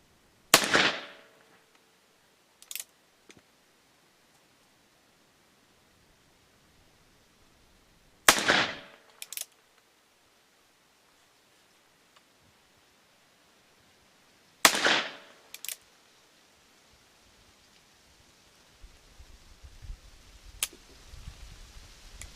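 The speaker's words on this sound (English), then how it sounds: "I'm going to shoot on the target up there and see if I can see what pattern I'm shooting" Three loud, sharp gunshots from a Colt Single Action Army revolver in .32-20 with a 7 1/2-inch barrel, spaced several seconds apart outdoors, each with a brief echo and faint clicks between.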